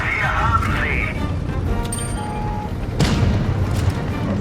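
A tank cannon fires in World of Tanks gameplay with one heavy boom midway, laid over a constant rumbling game soundscape and a short electronic tone.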